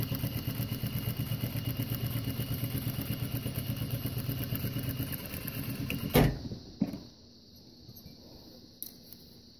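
A sewing machine stitches fabric with a fast, regular mechanical chatter that runs steadily, then stops abruptly, followed by a few faint clicks and handling noises in a quiet room.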